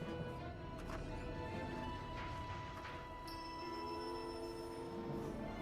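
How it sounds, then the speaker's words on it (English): In the video game Syberia II, a train rolls steadily with a continuous rumbling drone, a faint metallic screech of wheels rising over the constant rolling noise throughout. "Oh, earthquake? Or is the train leaving?"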